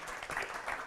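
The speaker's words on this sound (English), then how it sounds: "Let's have a big round of applause." Brief burst of steady crowd applause for a panel, dense and sustained clapping filling the whole moment at moderate loudness.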